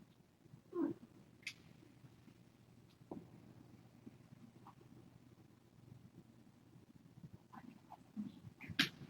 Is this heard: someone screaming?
no